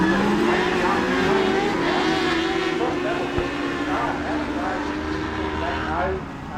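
Compact speedcars race at Bega speedway, their high-revving engines blending into a loud, steady roar that holds for several seconds, with a voice talking over it before the noise dips at the end.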